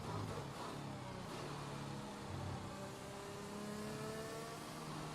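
F1 car from F1 2021 crawling slowly back to the pits at the British Grand Prix, a steady low engine drone with faint rising whine tones, continuous and fairly even throughout.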